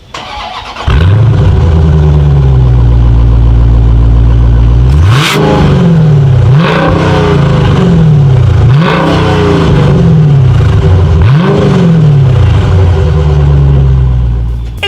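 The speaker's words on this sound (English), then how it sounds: "Here is that exhaust clip." Dodge Challenger R/T Scat Pack, a 2019/2020 model, rumbling loud and close through its dual exhaust, settling into a steady idle before a string of sharp revs that rise and fall in a quick repeating rhythm.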